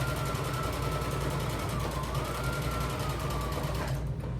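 A sewing machine runs steadily, stitching along the edge of a homemade tote bag with a continuous close mechanical whir that cuts off near the end.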